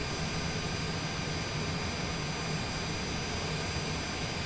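Steady, loud broadband roar of a jet airliner engine while the aircraft rolls after touchdown at Nadi airport in Fiji, constant and close throughout with no voices.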